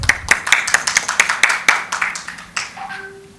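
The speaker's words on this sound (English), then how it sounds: "Please still give her a huge round of applause." At a gynaecology and fertility awards ceremony, a small scattering of hands claps in a quick, uneven rhythm for a few seconds, then thins out as a faint tone rises at the end.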